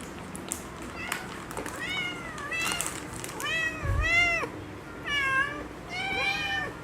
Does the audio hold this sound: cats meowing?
yes